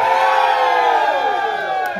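Audience on a cruise ship at a Margaritaville at Sea sing-along, cheering, whooping and yelling together in one loud, sustained burst that tapers slightly at the end.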